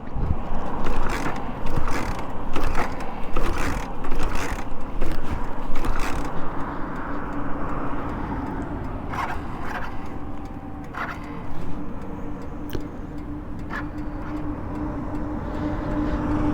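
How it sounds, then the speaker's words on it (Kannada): A Hero Splendor Plus BS6 motorcycle engine is cranked and runs, a steady low mechanical drone with repeated sharper bursts in the first few seconds, close by and fairly loud with no talking. "ಇನ್ನೊಂದು ಟ್ರೈ ಮಾಡೋಣ ಗಾಡಿ ಸ್ಟಾರ್ಟ್ ಆಗುತ್ತೆ ಹೆಂಗೆ ಅಂತ"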